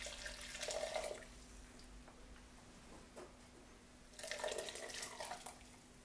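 Liquid pours and splashes as broth that simmered for an hour is strained for chicken and seafood paella. The pour comes in two bursts, one at the start and one near the end, with a quiet stretch between them.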